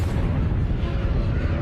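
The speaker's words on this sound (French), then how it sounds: "Une explosion de supernova est extrêmement puissante." A supernova explosion sound effect: a deep, sustained rumbling boom, loud and dense with heavy low-end roar that holds steady without a break.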